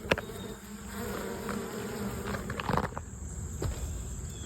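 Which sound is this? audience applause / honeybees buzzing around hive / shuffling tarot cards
honeybees buzzing around hive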